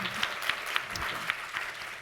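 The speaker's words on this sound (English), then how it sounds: "Yes, it's okay to clap." Conference audience at a fireside chat on human trafficking claps steadily, a soft, moderately distant applause with scattered sharper claps standing out, with no talking over it.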